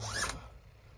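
A single quick zipper pull, close and clear, rasps upward in about a quarter second and then fades into quiet room tone.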